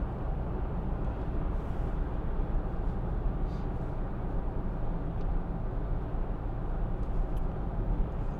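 Hyundai i40 1.7 CRDi diesel car heard from inside while driving, a steady low road and engine rumble running throughout with no distinct braking squeal.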